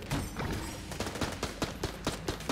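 Rapid bursts of machine pistol fire from the video game Enter the Gungeon, sharp repeated shots in quick succession over a steady busy game backdrop.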